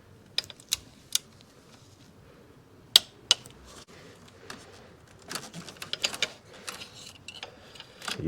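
A ratchet with a swivel socket tightening a spark plug on a BMW N52 engine, giving sharp isolated clicks followed by a quicker run of ratcheting clicks close by.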